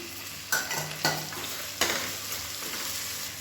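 Potato and tomato fry in a pan with a soft continuous sizzle, punctuated by a few sharp scraping knocks of a spoon stirring against the metal, close and without talk.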